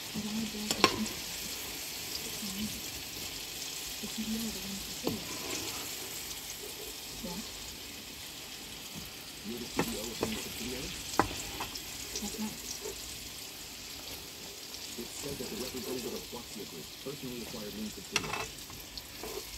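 Chicken breast fries in a pan with a steady, soft sizzle, and a utensil scrapes and stirs through it at intervals. Quiet talk is heard now and then beneath the cooking.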